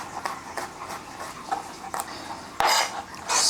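A knife mincing a bulb of garlic on a cutting board: a run of quick, uneven chopping taps close by, growing louder and busier toward the end.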